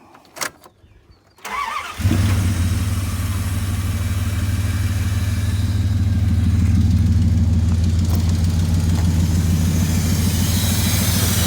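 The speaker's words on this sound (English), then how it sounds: "If you listen to the motor, I'm going to start it up right now." A 1996 Dodge Ram 1500 engine, which has an exhaust leak from a broken stud, cranks briefly after a few knocks and handling noises, catches, and settles into a steady, loud, smooth idle that runs close by to the end.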